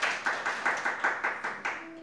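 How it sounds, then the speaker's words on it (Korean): A church congregation at a Friday worship service claps in unison, a steady rhythm of about eight sharp, even beats, fairly close and alone. "우리 박수 한번 좀 쳐주시면 감사하겠습니다"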